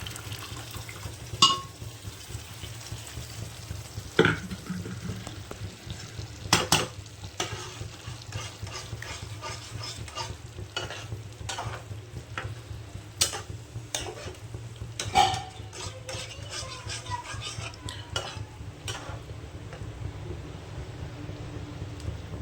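Boiled mung dal is stirred into a fried spice paste in a pot, a soft steady sizzle with occasional clinks and scrapes of the spoon against the pan, close and unaccompanied by speech.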